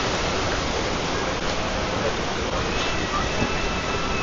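Panchakiri waterfall in Sikkim pours as a steady, dense wash of rushing water, constant and fairly loud with no pauses.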